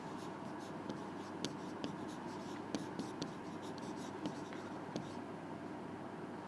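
Chalk scratches and taps across a classroom board in irregular short strokes, fairly faint over a steady room hum, with no speech.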